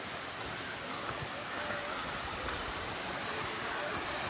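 Waterfall at Raigad Fort, a steady broad roar of falling water filling the scene at an even level from start to finish.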